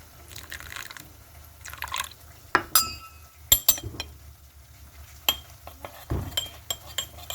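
A spoon stirs cornflour and water in a glass, making quiet, scattered clinks and light taps against the glass with soft liquid sounds in between.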